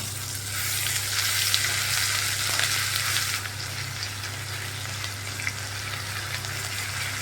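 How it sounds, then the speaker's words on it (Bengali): Ginger paste and whole spices, cinnamon, cloves, cardamom and black pepper, frying in a pan with a loud, dense, continuous sizzle that eases slightly partway through, a low kitchen hum beneath and no talking. "একটু মশলাটা ভেজে নিই আদাটা একটু আদা স্মেলটা চলে যাক"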